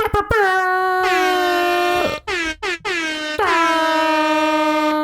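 Loud, blaring air horn blasts in a repeated pattern, with brief gaps between long sustained honks.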